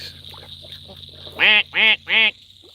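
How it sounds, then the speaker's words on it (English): Ducks at a lake give three loud, evenly spaced quacks in quick succession near the end, over a quiet outdoor background with a faint steady high tone and a few softer bird calls earlier. "Let's show the ducks one more time."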